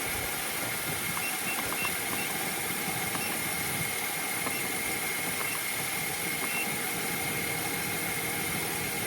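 A car engine idles steadily and close by during a battery test, a constant low hum with a faint, even ticking and no talk.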